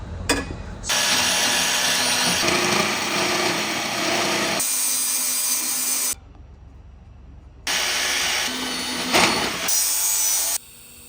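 A power tool cuts through the exhaust pipe of a 2020 Mustang GT catback system in loud harsh bursts of several seconds each, with abrupt starts and stops and short quiet gaps between cuts.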